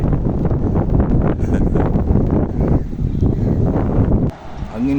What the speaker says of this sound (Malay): Angin kuat oh. Daripada petang semalam sampai hari ni angin agak kuat.